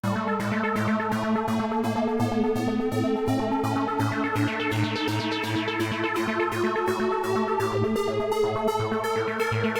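A two-note synth arpeggio from the Poison plugin with a slide effect, pulsing in a fast, even rhythm while the pitch glides, loud and continuous throughout.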